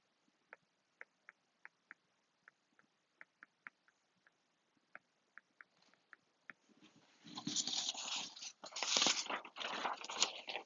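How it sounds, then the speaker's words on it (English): A dog knocking a pile of papers all over, heard as a run of sharp little ticks and taps, then a loud, close burst of rustling and crumpling paper that keeps going to the end, with no voices. "my dog just kicked my papers everywhere"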